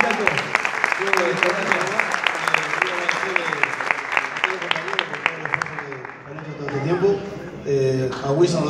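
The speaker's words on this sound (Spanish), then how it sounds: "El aplauso para ellos." At the Romeo Gavioli awards ceremony, a hall audience breaks into sustained clapping, dense and close, with voices talking and calling over it and a brief lull before the applause swells again.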